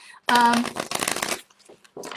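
Loud riffling of a tarot deck being shuffled by hand, two dense bursts of card flutter followed by a few softer taps and a last brief shuffle, with no talking.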